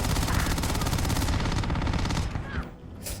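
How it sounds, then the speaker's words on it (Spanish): Sustained automatic enemy gunfire in the space game Starfield, dense rapid bursts rattling continuously at close range, easing off briefly near the end before resuming. "Aquí me está disparando."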